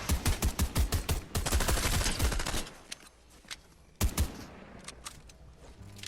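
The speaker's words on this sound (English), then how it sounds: "these SMGs are quite excellent at destroying builds" Rapid bursts of SMG fire in Fortnite tearing through player-built structures, loud close rattling volleys for about three seconds, then a short pause before another sharp burst and scattered lighter shots.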